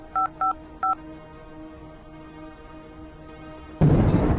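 Telephone keypad tones in the video game The Red Strings Club: three short, clean dialing beeps close together over a quiet hum, followed by a sudden burst of noise.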